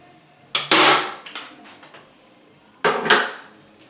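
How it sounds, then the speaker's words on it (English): Staple gun firing into shower curtain fabric, two sharp snapping shots a couple of seconds apart with small clicks and handling noise between them, close and loud. "what you're going to do is go ahead and staple that"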